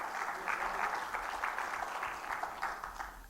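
A church congregation claps together during a worship service, a steady, fairly distant wash of hand claps with a faint murmur of voices underneath.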